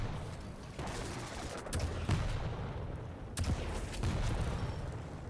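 Rocket shots in the arena shooter Quake Champions, a series of sharp blasts and booming impacts at irregular intervals amid constant busy game noise, moderately loud.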